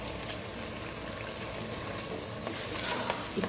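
Soaked chana dal, about 250 grams, frying in spiced masala for a methi dal fry, giving a steady dense sizzle throughout with a few louder crackles and stirring scrapes near the end.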